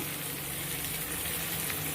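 Three tomatoes sizzle and fry in a pan with oil for Tirunelveli-style chicken biryani, a steady, close, even crackle that holds throughout with no talking.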